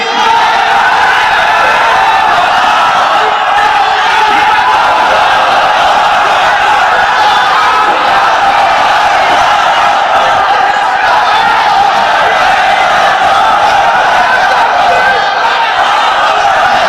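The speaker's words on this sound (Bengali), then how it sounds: "তাকবীর দেন তো একজন আওয়াজ করে" A large crowd at an outdoor Bangla Islamic sermon (waz) calls out the takbir together, a sustained loud mass of voices with shouts rising and falling across the whole stretch, no single speaker standing out.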